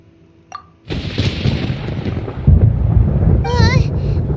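Thunder from a thunderstorm in the video game Genshin Impact rolls in as a loud, sustained rumble that swells and stays heavy, with a brief warbling tonal sound near the end.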